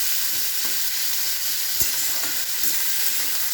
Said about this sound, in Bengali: পেঁয়াজ দিয়ে হালকা করে নাড়াচাড়া করবো, করে হালকা মানে একটা সুন্দর একটা সতে করে নেব